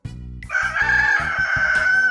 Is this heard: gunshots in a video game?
no